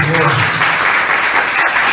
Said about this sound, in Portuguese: Dá uma salva de palmas bem forte para o Senhor